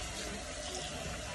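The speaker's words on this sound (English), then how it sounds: "Wash my hands real quick." Tap water running into a sink while hands are washed in a bathroom, a soft continuous hiss at low level with no clear breaks.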